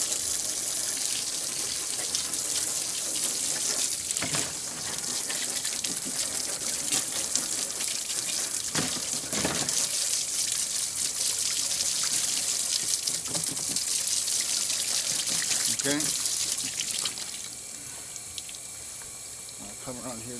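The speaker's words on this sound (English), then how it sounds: "Rinse it really good." A tap runs water steadily as a dirty Sega/Gremlin Carnival arcade circuit board is rinsed, a loud continuous hiss and splash with brief spoken words, then cutting back near the end.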